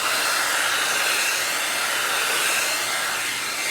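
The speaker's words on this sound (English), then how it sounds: "I'm going to get my hair dryer." A hair dryer blows steadily over a freshly wiped holiday chalkboard sign, a close, loud, even whoosh with no pauses.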